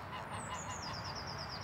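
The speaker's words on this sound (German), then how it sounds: "Auch die Graugänse rund um die Ricklinger Kiesteiche." Greylag geese honk near gravel ponds on a city's edge, a steady outdoor clamour of several birds calling at once, fairly distant and continuous with no voices over it.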